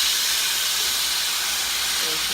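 Water poured into a hot pan of toasted rice for Mexican rice bursts into a loud, steady steam hiss that fills the whole moment, broad and unbroken from start to finish.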